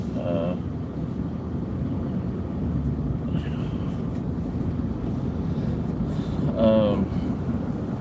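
A constant low rumble of road and wind noise from inside a car on a morning drive to work, steady throughout, with a few brief faint sounds rising above it.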